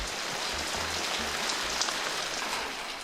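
Rain falling on a street in Turkey, a steady hiss of drops striking pavement and nearby surfaces, continuous and even throughout, with no voices and only a faint low rumble underneath.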